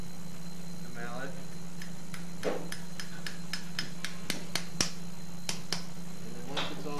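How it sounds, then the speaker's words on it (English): A mallet taps a suture anchor down into bone during arthroscopic shoulder stabilization surgery: a string of about ten crisp, close taps at uneven intervals over a steady low hum, with faint voices murmuring at the edges. "we're going to go ahead and tap the anchor down"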